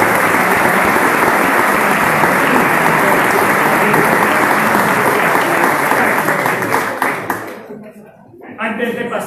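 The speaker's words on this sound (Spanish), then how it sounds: "Vale, un fuerte aplauso." Loud, sustained audience applause at a homebrewing competition awards ceremony, dense clapping that fades near the end before voices start talking.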